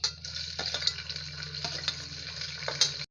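Big sliced onions sauté in oil with cinnamon, cloves and cardamom, giving a steady, close hiss of frying broken by a few scraping stirs and light clinks of a utensil against the pan, with no talking.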